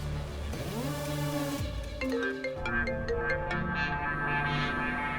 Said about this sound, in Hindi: सॉरी तन्नू जी, मैं इस वक्त आपको फोन कर रहा हूँ।